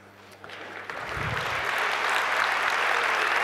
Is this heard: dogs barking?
no